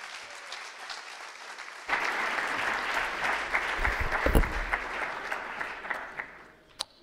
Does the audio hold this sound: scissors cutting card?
no